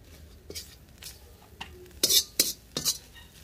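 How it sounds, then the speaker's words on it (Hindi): A metal spoon scrapes and clinks in a pan as egg yolks are stirred and mashed, with a few sharp clatters clustered near the end of a short burst. "इनको इसी तरीके से चम्मच को हिलाते जाना है, और इनको जो है आप तोड़ते जाएंगे"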